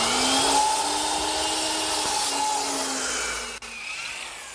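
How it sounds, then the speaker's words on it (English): A hand miter box saw cuts a wooden piece for a chair table at about 33 degrees, heard up close as a continuous rasping stroke with a steady tonal ring, ending with a brief click and a short drop in level. "now I'm going to bring it over to my miter box and cut it back at about 33 degrees"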